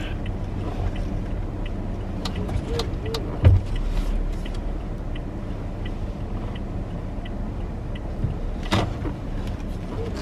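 A car being parallel parked, a low, steady engine hum heard from inside the cabin with a brief thump partway through and small clicks later, no talk.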